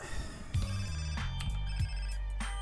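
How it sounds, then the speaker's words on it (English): An in-game phone rings in GTA San Andreas Definitive Edition as a repeating electronic ringtone melody. It plays over a steady low background hum, with no voices. "Phone call."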